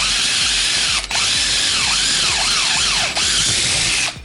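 A TECCPO cordless drill bores a hole with a loud, steady high whine, its pitch sweeping and dipping as the bit loads and frees, with two brief drops near one and three seconds before it stops.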